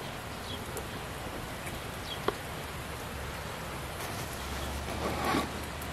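Soft, steady rain falls in a continuous hiss, faint and even, with a few isolated sharper drips and taps.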